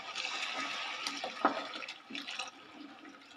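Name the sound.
pouring hot water into rice in a clay pot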